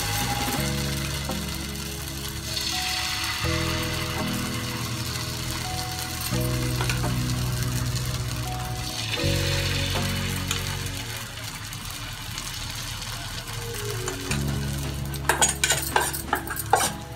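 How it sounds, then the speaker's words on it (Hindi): Spoonfuls of karadi pitha batter, made with bamboo shoot, hit hot oil and fry with a steady loud sizzle, broken by repeated scraping and clinking of a metal spoon against the pan, with rapid clatters near the end. "तेल गर्म हो चुका है। अभी जो हम पिठो में मिला के रखे थे ना करड़ी को, अभी एक एक चम्मच डालेंगे और ऐसे फैला देंगे।"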